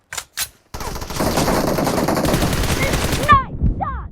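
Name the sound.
gunfire in PUBG Mobile arena mode, video game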